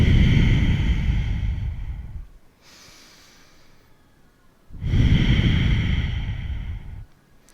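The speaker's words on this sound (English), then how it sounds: "taking a moment to breathe." Two long, deep breaths during a vinyasa yoga flow, each a loud, close, airy exhale through the nose and mouth lasting a couple of seconds, separated by a quieter inhale.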